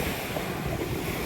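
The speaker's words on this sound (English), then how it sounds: "This beach is fantastic." Waves wash continuously on a tree-shaded beach in Guadeloupe, a dense, steady surf roar mixed with wind buffeting the microphone.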